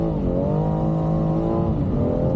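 A BMW with an MHD Stage 1 tune making around 420 brake horsepower accelerates hard, its engine note rising steadily and loud, heard from close by without any talking.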